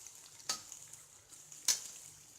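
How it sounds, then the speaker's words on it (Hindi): Onions frying on a full flame, a steady low sizzle with two sharp scraping strokes of a spoon stirring them in the pan, close and fairly quiet, no talking. "चम्मच से चलाते हुए इन्हें हम गोल्डन ब्राउन कर लेंगे"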